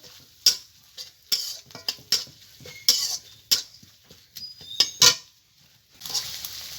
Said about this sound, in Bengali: মশলাটাকে আমি ভালো মতো কষিয়ে নেব